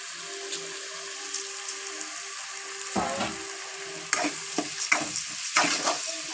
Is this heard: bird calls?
no